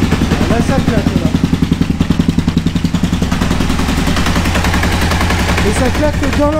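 An Aprilia RSV Tuono 1000 motorcycle engine with a fault clacks in a fast, rapid-fire rattling knock, loud and close, with metallic clatter over the idle; a voice talks briefly.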